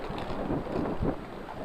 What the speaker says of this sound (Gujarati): અટાણે જો એવો પવન આવે છે કાલની જેમ ઠંડુ